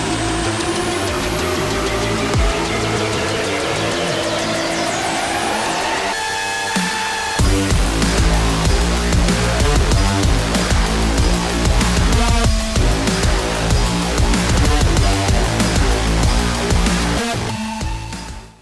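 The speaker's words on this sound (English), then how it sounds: "That motor synth jam you just heard is literally one of the things I'm the most proud of that I've made on this channel" Loud, dense synth jam played on hardware analog synthesizers: a sustained droning texture with rising tones gives way to a driving, pulsing rhythmic section that runs steadily to the end, with no voices.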